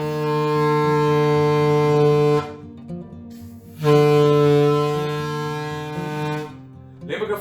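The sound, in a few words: blowing a tube imitating ship horn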